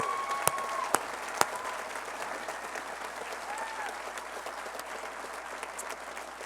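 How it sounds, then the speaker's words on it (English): An audience claps steadily for several seconds at a school commencement ceremony, a dense wash of hands with a few sharper claps standing out near the start. "we really need to give them a round of applause for all their efforts"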